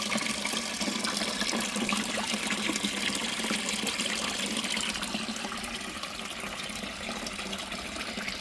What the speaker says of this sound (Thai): น้ำตกตรงนี้ก็จะทำจากปั๊มโยก เก่านะครับ